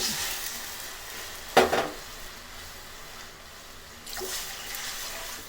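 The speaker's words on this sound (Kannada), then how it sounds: "ಎರಡು ಗ್ಲಾಸ್ ನೀರನ್ನು ಚೆನ್ನಾಗಿ ಕುದಿಯೋಕೆ ಬಿಡೋಣ" Two glasses of water go into a hot pan just used for frying semolina, on the way to making jaggery syrup. A sharp brief hiss is followed later by a quieter, steady sizzle.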